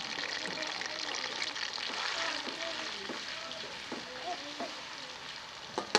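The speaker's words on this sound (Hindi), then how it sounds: "प्याज को सुनहरा होने तक पकाएंगे।" Finely chopped onions fry in hot oil for fish karahi, giving a steady, close hiss of sizzling that runs throughout while a voice speaks quietly over it, ending with a couple of light clinks.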